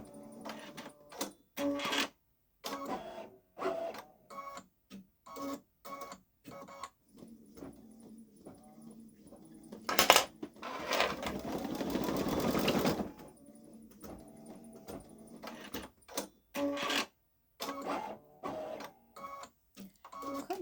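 Babylock Solaris Vision embroidery machine stitching a patch, its rapid mechanical needle clatter running in bursts with short pauses, a louder dense whirring stretch near the middle, heard close and alone.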